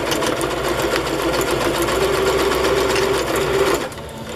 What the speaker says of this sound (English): This little piece of fabric that I just sewed on is feed sack fabric.